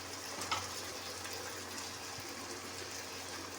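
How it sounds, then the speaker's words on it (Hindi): Water poured into a cooking pan of potatoes while making spiced potato curry, a steady rushing pour that holds at a moderate level through the whole stretch with no talking. "सबसे पहले जो है हम ज़रा सा पानी डाल के इनको जो है वो गलने के लिए रखेंगे।"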